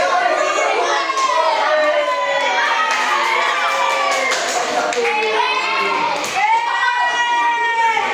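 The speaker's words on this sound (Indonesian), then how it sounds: "Oke, tepuk tangan" Sixth-grade children in an elementary school classroom clap and cheer loudly together, a dense continuous burst of applause mixed with excited high-pitched shouting and chatter lasting several seconds.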